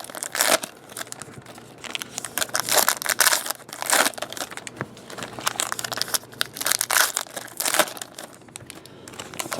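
Topps Magic football trading card packs are torn open close up, with bursts of crinkling foil wrapper and ripping that come in uneven clusters, separated by brief quieter gaps.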